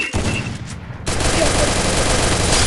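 Dense gunfire bursts from a Free Fire match, including an AW sniper rifle, in a 4 vs 4 ranked game: a brief lull, then loud, continuous rapid shots fill the rest of the clip.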